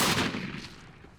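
A single 20 gauge Hecs Slam shotgun blast is fired at a wild turkey outdoors, a loud, sharp report whose roar fades quickly across about a second.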